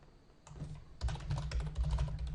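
Computer keyboard typing: quiet at first, then dense bursts of close, rapid key clicks and thumps continuing steadily, with no voices.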